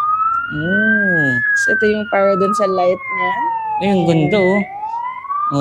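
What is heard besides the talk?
toy ride-on fire truck siren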